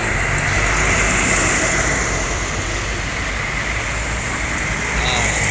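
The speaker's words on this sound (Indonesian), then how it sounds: "Ada bus lagi." A bus passing on a busy road: a loud, continuous broadband roar of engine and tyres close by, steady throughout amid general traffic noise.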